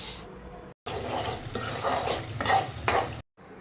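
Pork pieces fry with masala spices in a pan while being stirred, a steady sizzle broken by scraping strokes of a utensil against the pot, interrupted by two brief silent cuts.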